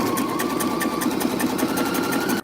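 A sewing machine stitches through a fabric pocket bag with a steady, close whirring hum and fast, even ticking of the needle throughout, with no voices.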